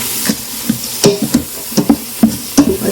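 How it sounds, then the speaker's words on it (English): Green pepper sizzling in an Instant Pot while being stirred, a steady close hiss broken by rhythmic scraping strokes of the spoon, with no talking. "Stir that around."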